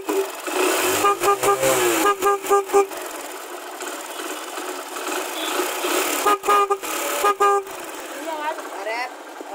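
A motorcycle horn fitted with a double horn setup through a 4-pin relay, on a low battery, honks in two clusters of short repeated toots, loud and close, with someone talking around them and the engine idling underneath.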